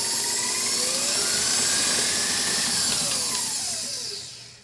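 An electric hand mixer beats gluten-free cheese and garlic bagel dough in a bowl. It gives a steady, loud motor whir that holds for several seconds, then winds down at the end.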